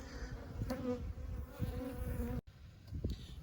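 Honeybees hum steadily in an outdoor bee yard, a close, continuous buzz with individual insects passing near, fairly quiet overall.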